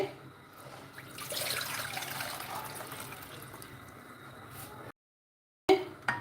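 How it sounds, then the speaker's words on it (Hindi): Four cups of water pour into a saucepan for jaggery semolina halwa, a steady splashing rush that lasts several seconds before stopping, with a short gap and a small clink at the end. "सॉस पैन ले लेना है एक अदर, उसमें हम ये 4 कप पानी ऐड करेंगे"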